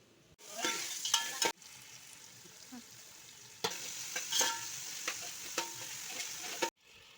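Whole spices, green chillies and onion crackle in hot oil as a tempering for chicken curry, with a bright sizzle and spatula scrapes in two bursts separated by a quieter stretch.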